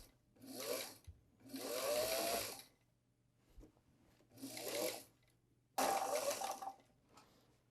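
A vintage Singer 327 sewing machine running in four separate bursts, its needle moving with a close whirring mechanical buzz, starting and stopping with quiet pauses between.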